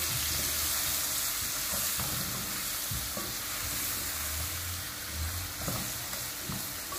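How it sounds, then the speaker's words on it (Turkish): Flour being stirred and roasted in a pan, a soft continuous sizzle with repeated scraping strokes of a spoon, close and alone without any talk. "Unumuz da güzelce kavrulsun biraz."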